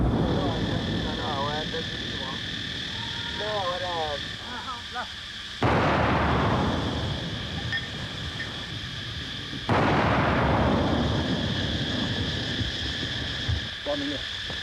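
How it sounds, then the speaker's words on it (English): The 6th Karen Brigade fires mortars from a dug-in position on Hill 927 at Kormura: two heavy booming blasts a few seconds apart cut through steady background noise, with birdsong early on and someone narrating. "From a dug-in mortar position on Hill 927 at Kormura, the 6th Karen Brigade fires on the Burmese."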